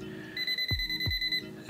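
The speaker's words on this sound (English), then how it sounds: "it turns red and it beeps" Klein Tools non-contact voltage tester held near a live light fixture, sounding a steady electronic beep tone for about a second, with two soft thuds beneath it.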